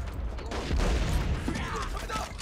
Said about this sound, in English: there's mortars everywhere